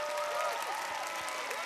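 Applause from a studio audience at a Vietnamese television talent show, a steady dense wash of clapping at moderate level with faint voices underneath.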